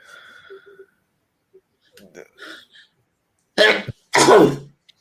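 After some quiet mumbling, two loud, abrupt bursts come one after another, like a person sneezing or coughing close to the microphone.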